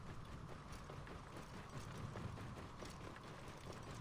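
Quiet, steady hoofbeats of a riding mount trotting along in Assassin's Creed Origins, a continuous low clip-clop rhythm under faint ambient game sound.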